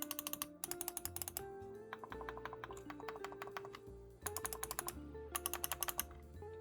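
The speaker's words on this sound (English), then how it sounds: "it seems like the outer buttons are microswitch while the inner buttons are tactile switches" Rapid bursts of clicking from a Leadjoy Xeno Plus game controller, its outer microswitch buttons and inner tactile switches pressed in quick flurries with short pauses between, crisp and close with no voices.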